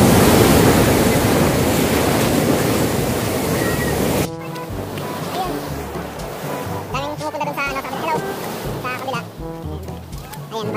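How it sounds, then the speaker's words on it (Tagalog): Heavy surf pounds an island shore at Glan, Sarangani, a loud broadband roar for the first few seconds before the sound cuts to a quieter scene where a person talks over faint background wash. "Ayan, guys. Sobrang lakas ng alon."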